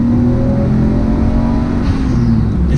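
Nissan Skyline RB engine revving, a loud steady close-up drone rising gently in pitch inside the car, with no talk.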